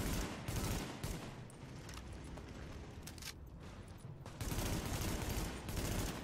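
AK rifle fire in the video game The Division: dense, rapid bursts of gunfire with heavy booming shots, loud and nearly continuous across the clip, with short lulls between volleys.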